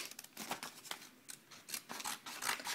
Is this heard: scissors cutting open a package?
yes